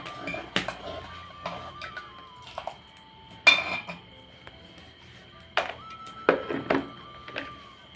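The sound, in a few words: mixing garam masala into dal in a pot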